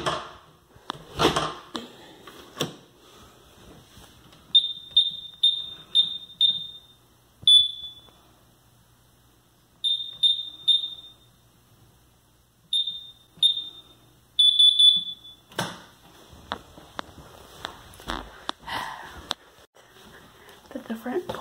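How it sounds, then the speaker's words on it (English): A newly installed home security alarm at a front porch door sounds in repeated bursts of rapid high-pitched beeps with short gaps, loud and close, with rustling and handling noise before and after. "the front porch doesn't give you a timer before the alarm goes off like the other door"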